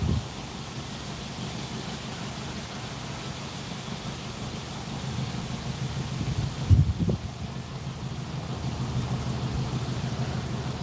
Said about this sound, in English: Man, the wind is fierce.